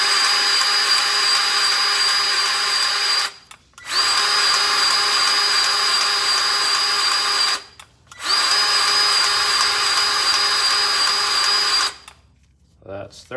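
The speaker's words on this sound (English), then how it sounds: "I got the grease gun set to 10 pumps" A powered grease gun pumps grease into hub bearings with a loud, steady whirring drone that runs in three long bursts separated by short pauses.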